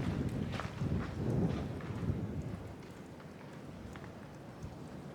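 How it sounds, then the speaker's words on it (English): Cold wind gusting through a deep, sheer-walled canyon in the backcountry, a broad rushing roar that swells loudly in the first half and then eases to a softer, steady blow, with no voices. "Oh yeah, here's the wind. That's really cold."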